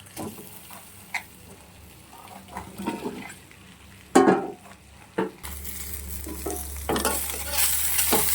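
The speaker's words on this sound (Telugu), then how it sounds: "ఆయిల్ వేసుకున్న తర్వాత బెండకాయలు వేసుకొని వేపాలి కాసేపు." Cut okra frying in oil in a pan, a steady close sizzle with occasional clinks and scrapes of stirring, growing louder and brighter partway through.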